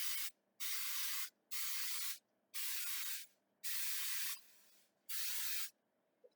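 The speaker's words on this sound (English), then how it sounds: "I need some baking spray, non-stick baking spray." Non-stick baking spray sprayed into a baking pan in five long hissing bursts with short pauses between, close and crisp, no talk.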